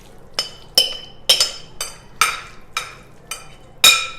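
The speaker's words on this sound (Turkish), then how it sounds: "Patlıcanlı harcımızı bu şekilde tepsimize alıyoruz." A spoon scrapes an eggplant börek filling into a metal baking tray, making about nine sharp clinks and taps at uneven intervals of roughly half a second, close and clear, with quiet gaps between them.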